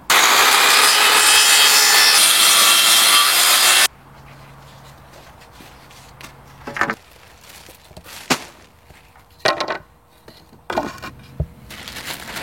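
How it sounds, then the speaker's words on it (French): A power saw cuts a wooden terrace deck board narrower, loud and close for the first few seconds, then stops, followed by scattered knocks and clatters of handling wood. "C'est pourquoi nous coupons la première planche de prime abord plus étroite."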